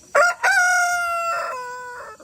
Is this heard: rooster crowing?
yes